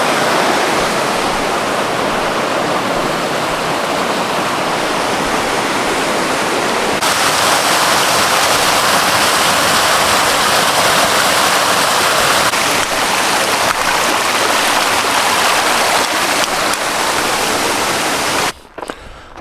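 Bear Creek rushes by in a burned forest area along the Pacific Crest Trail in Northern California, a loud, continuous roar of flowing water filling the whole clip without any voices.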